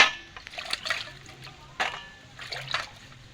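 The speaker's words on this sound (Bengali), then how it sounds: "এবার আমি জলে দিয়ে ধুয়ে ফেলবো" Dried fish being rinsed in water by hand, with splashing, trickling and sloshing bursts coming in a few separate close-up washes.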